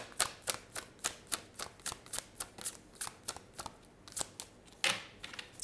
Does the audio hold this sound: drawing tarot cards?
yes